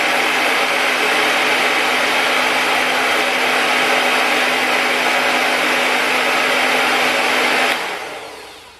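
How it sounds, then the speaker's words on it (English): A hair dryer fitted with a diffuser blows on the roots of curly hair, a loud steady whir with a constant hum that runs unbroken for several seconds, then cuts off and fades near the end. "So I just put the diffuser into my roots and turn it on."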